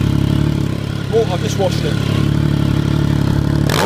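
A Triumph GT 1050 SE motorcycle engine idles loudly and close, a steady rumbling throb throughout, while someone speaks briefly over it near the start.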